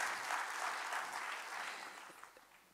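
Studio audience applause that starts full and steady, then gradually thins and fades toward the end, heard on its own without talk.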